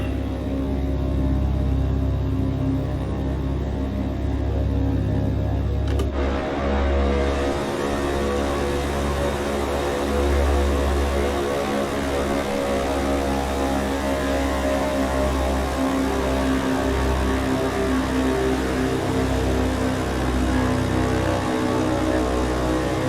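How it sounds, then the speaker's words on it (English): A steady, loud engine drone with a fairly constant tone is heard in Microsoft Flight Simulator as an aircraft passes close by on a flyby, with no voices. "Right up on the port side, another flyby."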